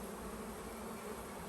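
Honey bees buzz densely around a hive during honey super clearing, a steady, close, continuous hum with no voices.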